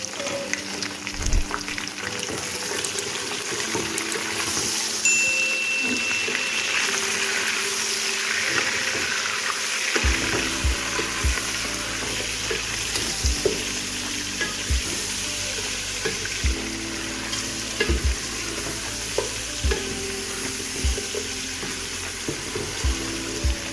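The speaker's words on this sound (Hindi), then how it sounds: "अब मैं इसमें अपना जो मैंने गोश्त निकाल के रखा हुआ था, ये हाफ kg है, मिक्स बोन और विदाउट बोन का।" Half a kilo of mutton, mixed bone and boneless, fries with browned onions for aloo gosht, a loud, continuous close sizzle with repeated stirring knocks and scrapes, no talk.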